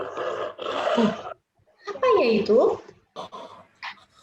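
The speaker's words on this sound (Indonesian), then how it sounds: "Suara singa." Lion roar sound effect played for young children in a story session, two long loud roaring bursts with a rising and falling growl, followed by shorter bursts, with a voice speaking between them.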